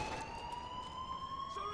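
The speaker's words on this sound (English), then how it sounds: "I've had enough sirens for now." Police sirens in the video game GTA 5, a steady wailing tone held under a low engine-like rumble, moderately distant and without talk.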